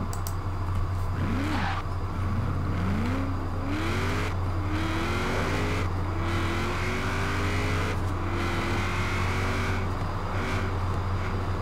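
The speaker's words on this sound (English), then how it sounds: "my car's going out of control!" A car careening out of control in a video game: a loud engine drones steadily under a rising, sliding whine that climbs and bends repeatedly, with no talk heard.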